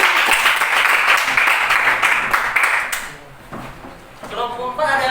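A crowd applauds with steady, dense clapping for about three seconds, then it fades while a voice begins speaking over the dwindling claps.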